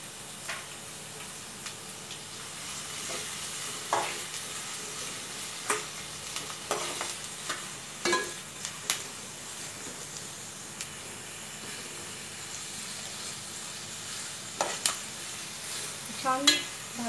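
Chopped onion and bay leaves fry in hot oil, giving a steady sizzle marked by frequent spoon scrapes and clinks against the pan, all close up with no talking.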